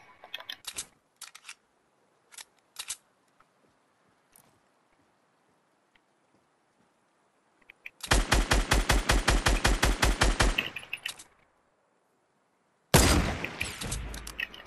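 Rapid bursts of automatic gunfire in Fortnite, with a few isolated shots early, then two long loud volleys of quick repeated shots.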